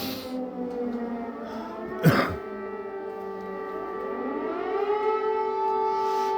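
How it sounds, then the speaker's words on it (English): Air raid sirens wail across Mykolaiv at 3 a.m., layered tones droning steadily from a distance before one rises and swells. A nearby cough breaks in briefly. "Sirens booting off."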